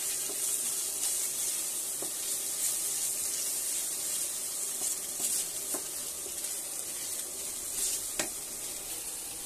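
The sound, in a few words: ginger garlic paste frying in a nonstick wok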